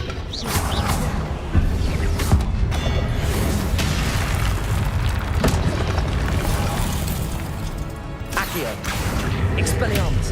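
Incendio fire spells cast over and over in Hogwarts Legacy, bursting and popping in quick succession amid busy battle effects, with a voice speaking over them.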